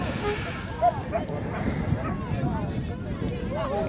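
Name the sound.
wind blowing at a football stadium in Vratsa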